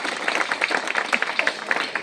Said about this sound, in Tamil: உங்கள் அத்தனை பேருக்குமே ஒரு பலத்தை கைதட்டு